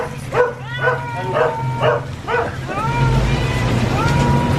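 A dog gives a run of short barks and yips, followed by a couple of longer whining calls, fairly close over a steady low hum.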